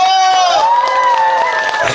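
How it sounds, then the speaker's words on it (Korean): Crowd cheering and applause at a wild ginseng festival in Hamyang, Korea, where a ballad and pumba singer performs; a loud, continuous wash of shouts and clapping with a prominent voice whooping over the top. "다시 한번 박수 함성 크게 박수 함성"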